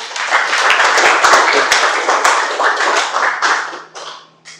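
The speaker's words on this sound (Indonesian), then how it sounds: "Tepuk tangan dulu untuk Valermo." A classroom full of students claps together in a loud, dense burst of applause that thins out and fades toward the end.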